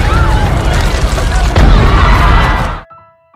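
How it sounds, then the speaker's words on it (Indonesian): A gas cylinder explodes in a film scene after a fire reaches it, a loud roaring blast and rumbling debris that fills nearly three seconds before cutting off abruptly to near silence. "Akibat ulah Hedwig, kebakaran itu langsung merambat ke tabung gas yang kebetulan berada di dekat sana, hingga membuat ledakan besar dan memakan beberapa korban jiwa."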